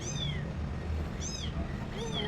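A cat meows three times in short, rising-falling calls spaced evenly apart, moderately close, over a faint background murmur.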